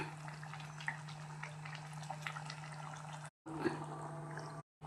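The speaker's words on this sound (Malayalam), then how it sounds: "ഇതിൽ നമുക്ക് ഇത്തിരി മൂടി വയ്ക്കാം തിളയ്ക്കട്ടെ" A shrimp curry with drumstick pieces simmers in a covered pot, giving a soft continuous bubbling with faint drips and a low steady hum behind it, cut by two brief silences.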